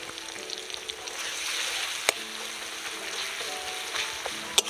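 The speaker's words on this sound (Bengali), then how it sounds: "পেঁয়াজের সাথে আদা আর রসুন একসাথে ভালো করে ভেজে নিতে হবে" Onion with ginger and garlic paste sizzles steadily in a hot pan for village-style Kadaknath chicken curry, a continuous close frying hiss with a couple of sharp clinks from stirring.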